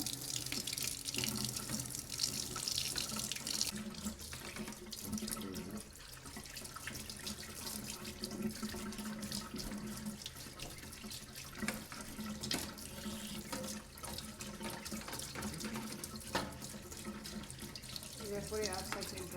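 Tap water pours steadily into a sink while parts of a Philips air purifier are washed, a constant splashing rush that continues throughout, with faint clatter from nearby handling.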